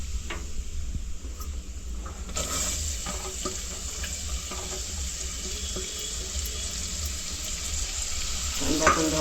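Chopped onion sizzles and fries in a hot pan for chana dal amti, a continuous crackling hiss with scraping stirs and clinks from a spoon over a low background rumble, close by and without talk.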